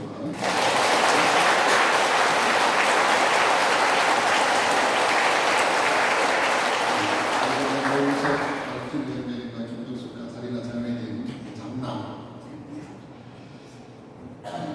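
Loud, dense welcoming applause fills a Catholic church at an ordination Mass for about nine seconds, then fades into quieter room sound as a voice begins speaking.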